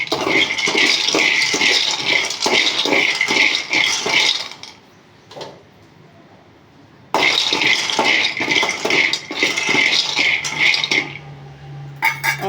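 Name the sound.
peanuts being dry-roasted in a pan on low flame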